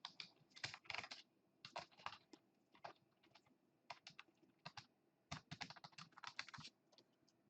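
Quiet, close keyboard typing as an administrator username and password go into a computer, with irregular bursts of key clicks and brief pauses between them.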